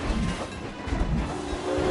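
Roller coaster train in Planet Coaster rumbling along its track, a steady rolling clatter with low rumble and hiss, close and continuous throughout.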